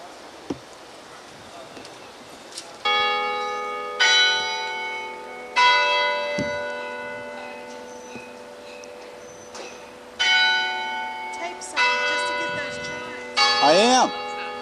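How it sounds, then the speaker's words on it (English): Church bells chime in a rich, ringing sequence of tones near Church Street in Charleston, several strikes overlapping and sustaining over outdoor ambience, fairly close and clear. "I don't know what building this is, but the chime sound nice anyway."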